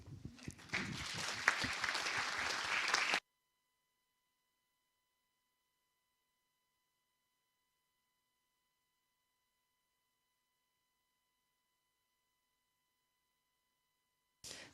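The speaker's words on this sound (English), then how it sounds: "please give the round of applause" Audience applause for the panelists at the close of a health security conference session, a dense burst of clapping lasting about three seconds before falling silent, with a brief return at the very end.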